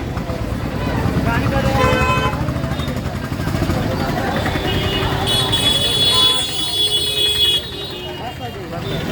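Heavy street traffic during the Dwarka Fuldol festival, car engines and a continuous rumble with repeated loud horn toots and a long sustained honk, close by, with people talking over it.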